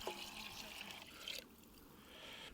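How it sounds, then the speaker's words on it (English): Water poured from a container into a chili pot while cooking outdoors in the Rocky Mountains, a steady close trickle and splash that runs for over a second, then gives way to quieter background noise. "We're gonna add 8 cups of water"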